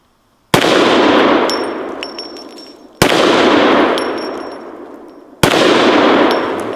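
Three loud handgun shots fired singly about two and a half seconds apart at an outdoor range, each a sharp crack trailing into a long echoing decay, with a steel ram target ringing faintly after the first two.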